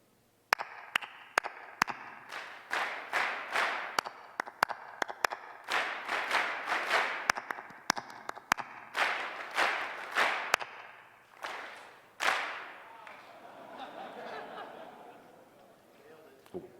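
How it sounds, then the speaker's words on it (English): A drum corps clinician and audience trade short clapped rhythms of four counts in a large hall, with sharp single claps alternating with bursts of crowd clapping, ending in a loose spread of applause and chatter. "I'm going to clap a rhythm, 4 counts. 4 counts, and you're going to clap it back."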